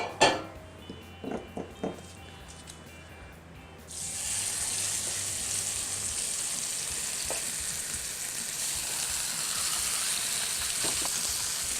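Rib eye steaks hit a hot oiled skillet, bursting into a loud, steady sizzle that fills the rest of the clip after a few soft clinks and taps at the start.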